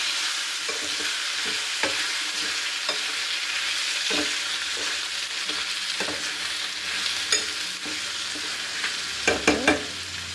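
Brinjal and tomato pieces fry in a pan with a steady, close sizzle and crackle, punctuated by occasional stirring clinks and a short cluster of sharper knocks near the end; no one speaks.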